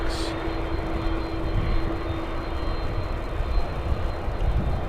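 Jet aircraft at DFW Airport, a DC-10-type airliner, gives off a steady, broad roaring rumble with a faint whine, heard continuously from a distance.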